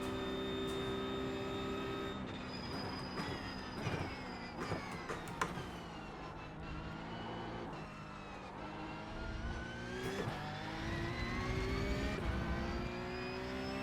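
A race car in the iRacing simulator brakes and accelerates through corners, its engine note rising and falling continuously with gear changes and revving sweeps, steady and fairly loud with no talk.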